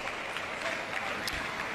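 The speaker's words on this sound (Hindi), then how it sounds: "तालियां बजती रहनी चाहिए।" Audience applause at a women's kabaddi league final prize ceremony: a dense, steady wash of many hands clapping that stays continuous and fairly loud throughout.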